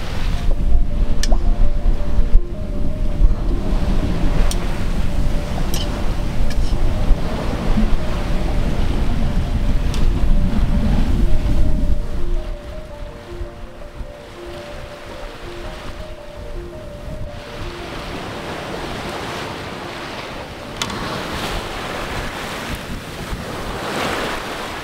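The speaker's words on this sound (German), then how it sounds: "wir haben Wind, wir kommen gut voran" A sailboat runs under sail through waves in a steady wind, with loud rushing water and wind noise throughout that drops to a softer, even wash of surf midway, with no talk.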